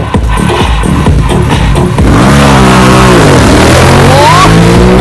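Two motorcycles of a racing club rev hard and pull away, loud and close, with rising and falling engine pitch sweeping through the second half.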